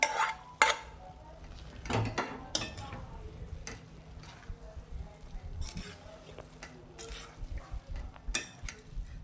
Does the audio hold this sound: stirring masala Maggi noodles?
yes